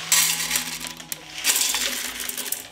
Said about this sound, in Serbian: Opran pasulj sipam u šerpu